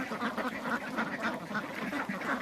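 A flock of laying ducks on a small duck farm quacks continuously nearby, a dense overlapping chorus of calls with steady noise underneath.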